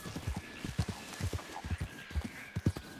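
Horse hooves clip-clop in a steady walking rhythm in Red Dead Redemption 2, with distinct, moderately quiet thuds over a faint ambient hum.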